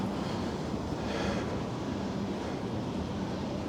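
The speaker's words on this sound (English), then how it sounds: "It is cold though, and it is windy." Cold wind gusting along a city street in Newark, a steady broadband rush buffeting the microphone throughout with no voices.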